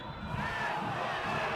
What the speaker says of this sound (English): the crowd here does not like that call